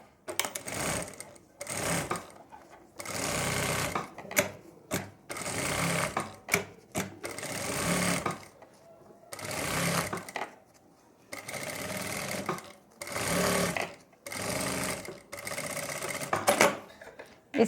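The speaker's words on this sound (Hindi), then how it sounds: "इसको बुकरम के ऊपर इस तरीके से सिलाई लगा देंगे" A sewing machine stitches fabric onto buckram for a kurti neckline in short, rapid bursts. Brief pauses separate the runs, and the whirring clatter is close and fairly loud.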